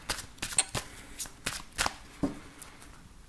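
Tarot cards are shuffled and cut by hand, a string of crisp riffling flicks and soft slaps at an uneven rhythm, close and fairly quiet with no talk.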